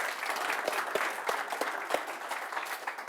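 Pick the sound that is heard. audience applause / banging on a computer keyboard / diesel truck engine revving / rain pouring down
audience applause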